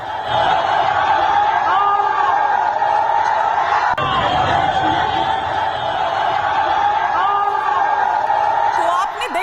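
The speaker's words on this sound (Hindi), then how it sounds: "तोड़फोड़ की जाती है आप सुन रहे होंगे। ये चीख पुकार किस तरह की" A mob screams and shouts continuously while vandalizing a Kali temple in Bangladesh, a dense, loud roar of many voices with yells rising above it throughout.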